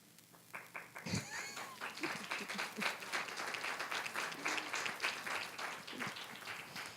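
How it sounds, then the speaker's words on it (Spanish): An audience at a debate event on sexual violence applauds in a sustained burst of clapping, moderately loud and steady, with a few voices calling out in the room. "Creía que no ibais a aplaudir."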